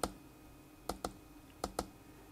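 Keys clicking on an Alphasmart Dana laptop: four sharp, isolated clicks, one alone and then two close pairs, close and moderately loud over a quiet hum.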